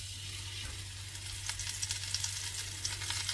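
Pangasius fish fillet frying in heated oil, a steady bright sizzle with crackling pops over a constant low hum, close and loud, no talk.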